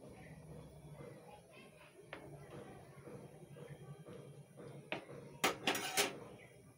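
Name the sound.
stirring mung dal with pumpkin in a wok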